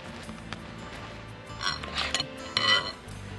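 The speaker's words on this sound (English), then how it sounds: "And now just lightly toss, and you have a salad" Iceberg lettuce with carrot chips, mushroom slices and a thick, creamy Japanese-style dressing being lightly tossed in a bowl: soft rustling with a few clinks of the utensils against the bowl, close and fairly quiet, with no talking.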